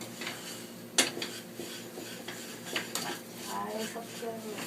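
Black sesame seeds are stirred into syrup in a pan for sesame gangjeong, with scraping and clinking of a utensil against the metal and a soft sizzling underneath, including one sharp knock near the start.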